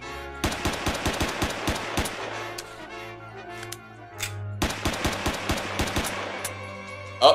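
Rapid video-game gunfire in two bursts of sharp, evenly spaced shots, separated by a brief lull with a low hum, then a loud thump at the end.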